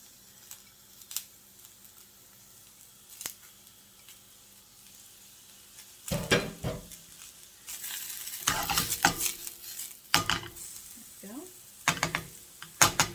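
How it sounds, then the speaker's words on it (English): Diced onion and pepper dropped into hot butter in a pan, starting quiet with occasional clicks, then bursting into loud sizzling and crackling with stirring scrapes and a voice speaking intermittently. "as the butter's getting hot, we're going to just throw our diced onion and diced pepper in here."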